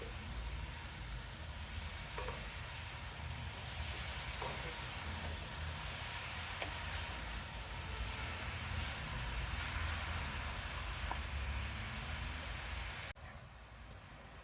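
Chopped pumpkin for halwa frying in a pan on high heat, a steady close sizzle and hiss with faint stirring clicks, continuing without talk.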